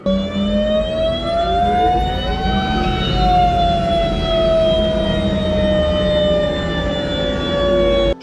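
A loud, continuous turbine whine of an Abrams tank engine in a video game, its high pitch rising and sliding gently over a heavy rumbling drone.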